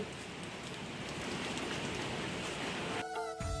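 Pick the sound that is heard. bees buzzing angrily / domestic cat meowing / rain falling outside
rain falling outside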